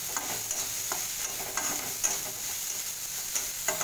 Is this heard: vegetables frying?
yes